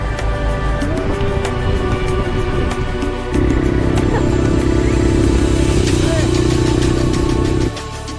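Motorcycle engines rumble and rev close by on a dirt trail, one rising to a sustained louder drone before cutting back, with rattling over rough ground.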